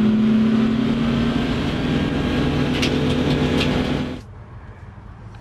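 A race car with a hand-lever controlled clutch pulls away, its engine droning loud and steady with a rising hum, then dropping off sharply as it moves away, no talk over it.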